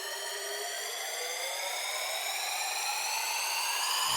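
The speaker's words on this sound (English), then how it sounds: "Add an ILLENIUM riser." An ILLENIUM-style synth riser built in FL Studio climbs steadily over about four seconds, a bright, layered tone with stacked harmonics sweeping upward in pitch and swelling slightly in loudness before cutting off.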